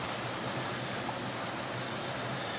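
A flowing creek or river near trailside camping spots on the Appalachian Trail around Clarendon, Vermont: steady broadband rushing water, even and moderately loud, with no voices.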